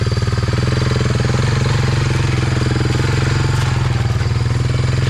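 A Honda 300 Fourtrax ATV, stuck and fitted with 32-inch Silverback tires, chugs with a loud, steady, rapid engine pulse close by, holding a fairly even pitch with no clear surge, and no voices over it.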